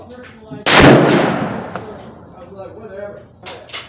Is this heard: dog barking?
no